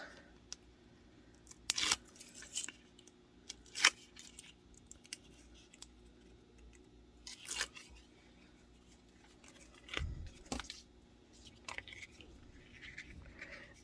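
Paper pieces being torn off for a scrapbook layout, heard as several short, sharp rips spaced a few seconds apart, close and fairly quiet against a low background hum, with no talk.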